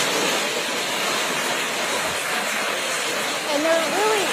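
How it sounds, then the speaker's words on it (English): A continuous broadband rush of water fills the whole stretch, steady and loud like a waterfall or river, with a brief voice-like sound near the end. "there really isn't any sound other than the rush of water"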